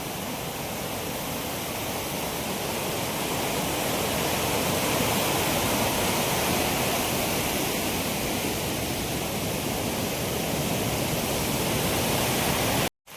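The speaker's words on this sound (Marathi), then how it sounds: "बघा तुम्हाला दाखवतो, हा पाणी तिकडून येते कोपऱ्यातून." Water pours out from the corner of a village well in the Konkan, a loud, steady rushing wash that continues unbroken until a sudden cut at the end.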